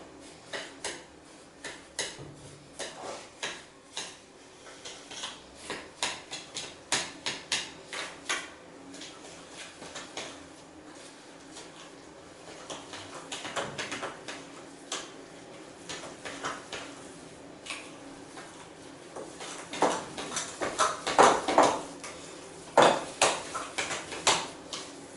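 Carrot cake batter being stirred together in a bowl, with a steady run of light scraping and clinking knocks from the utensil against the bowl that grows busier and louder toward the end.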